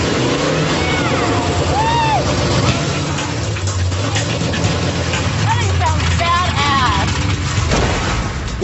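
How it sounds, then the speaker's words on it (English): The engine of a 1970 GM truck runs after being fired up, a low continuous rumble that stays steady beneath people talking and calling out nearby. "LNG Enterprises waste no time in firing up their engine."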